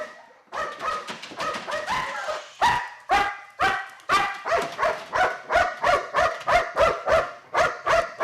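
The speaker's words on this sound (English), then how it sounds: "Therefore, while the dog is still working in the box room, Randy brings" A working detection dog barks repeatedly during search training in an indoor box room, a rapid series of loud, close, sharp barks in a steady rhythm with no talk.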